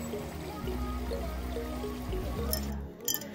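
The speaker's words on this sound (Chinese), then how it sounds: "咖啡厅门口还有一个喷泉，就是你可以边听着水声" Fountain water splashing and trickling outside a small cafe, a steady close wash of falling water with a few brighter drip-like splashes near the end.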